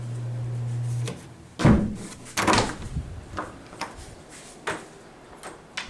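A sticking hotel room door at a Holiday Inn Express & Suites in Lincoln is forced open: a low hum stops, then several loud scraping, rattling knocks and creaks follow in an uneven sequence, fading to lighter clicks.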